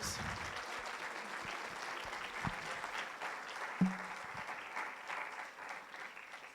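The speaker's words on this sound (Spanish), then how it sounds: "Fuerte el aplauso a Dios." A church congregation gives fairly quiet, sustained applause to God during a Spanish-language Christian sermon, with a steady patter of many hands, a few louder thuds, and the clapping thinning slightly toward the end.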